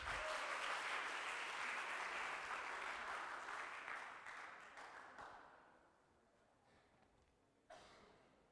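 Audience applause at the ICSSPEH 2024 sports science conference certificate ceremony on day one, loud and sustained at first, then thinning and fading out, with a brief burst near the end.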